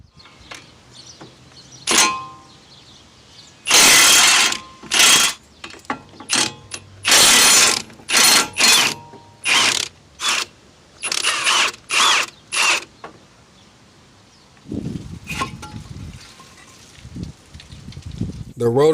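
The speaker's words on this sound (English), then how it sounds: "Then remove the two caliper bracket bolts with a 15mm socket." A ratchet wrench with a 15mm socket loosens the caliper bracket bolts on a Ford Five Hundred, giving loud bursts of rapid clicking in repeated strokes with short pauses between them, close up.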